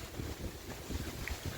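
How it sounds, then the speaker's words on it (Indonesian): Wind gusts buffet the microphone outdoors on a mountain trail past rice fields, a low rumbling roar that swells and fades in uneven bursts, fairly loud and steady with no voices. "Angin."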